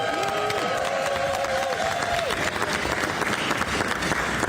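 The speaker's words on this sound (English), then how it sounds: "give all of them a big round of applause" An audience at a governor's bill signing applauds steadily, with dense continuous clapping and some crowd noise, a brief tonal sound early on.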